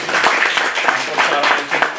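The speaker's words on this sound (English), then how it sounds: "Can I have a small clap for that, please?" Small audience applause at a college fellowship event, a dense steady patter of clapping filling the whole moment with a slight swell, fairly close and loud, with murmured voices mixed underneath.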